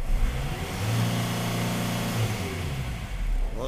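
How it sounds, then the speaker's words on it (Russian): A diesel GAZelle van's engine is revved high, climbing toward 6000 rpm, its pitch rising and holding in a sustained loud whine before easing back down to idle, close by with no talk. "О, до 6 крутит дизель."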